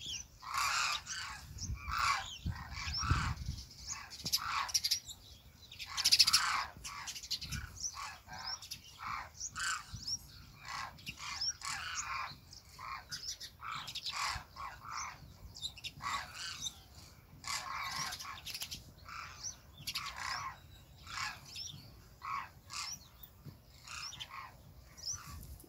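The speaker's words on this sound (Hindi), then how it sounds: "और अभी ना धूप में बैठी है चिड़िया उसके माले के पास।" Sparrows chirp outdoors on a sunny morning, a long run of quick, busy chirps from nearby birds, repeating almost continuously.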